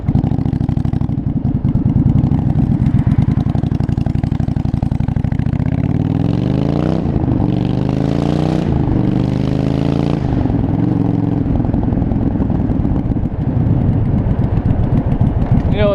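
A loud 1982 Yamaha Virago 920cc motorcycle engine racing through city streets, a heavy throbbing rumble that revs up and falls back in the middle, with steady pulsing idle before and after, recorded close to the bike.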